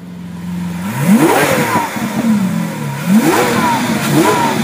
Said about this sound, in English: There's nothing better than an Italian V12 engine singing its song.